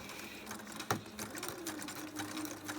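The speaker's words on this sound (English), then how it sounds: "you put the foot down, and then you're going to start sewing" A sewing machine stitches a quilt seam along the raw edge through batting, running in a steady whirring stream with a brief clunk near the start.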